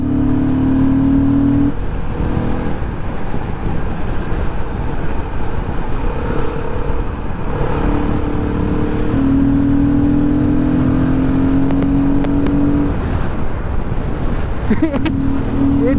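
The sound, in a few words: Royal Enfield Guerrilla 450 motorcycle engine accelerating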